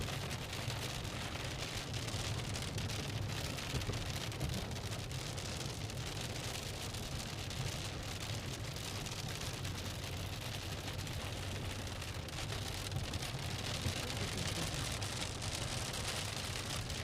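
Steady rain pelting a car as it drives through a passing storm in Iowa or Missouri, a dense continuous hiss with a low road rumble underneath, constant and even throughout with no voices.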